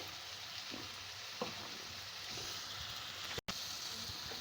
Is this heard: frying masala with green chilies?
yes